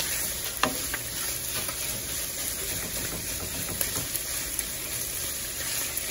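Chorizo and egg frying in a pan, a steady close sizzle throughout with a few faint clinks and stirring scrapes, no talking.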